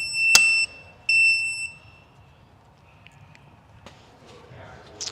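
Two short electronic beeps sound close by from an auto-detecting battery charger on a 48V battery build, followed by faint clicks and rustling.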